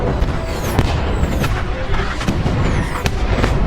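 Film explosions as missiles strike buildings, with a dense, continuous rumble of blasts and sharp booming bursts throughout, loud and close, with no speech.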